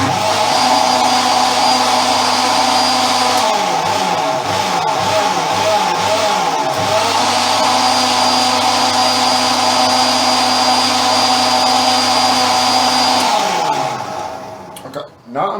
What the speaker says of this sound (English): So obviously the longer you're going to liquidize it, the finer the oats pieces is going to be